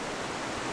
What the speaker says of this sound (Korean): 폭포 흐르는 소리 때문에 귀로도 시원하고